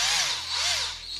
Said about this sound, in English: It's gonna use a set drill bit.